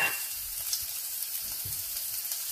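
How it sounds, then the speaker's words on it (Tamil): Garlic sizzles in hot oil with cumin and fennel seeds: a constant close frying hiss with faint stirring underneath and no voices. "சிறிதளவு பெருஞ்சீரகம் போட்டு இந்த உள்ளியை போடுவோம்."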